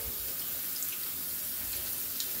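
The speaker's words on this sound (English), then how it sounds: "Saving time by rinsing them and the dishes together." Running tap water pours steadily into a kitchen sink as empty tin cans and dishes are rinsed together, a continuous close splashing hiss with no speech.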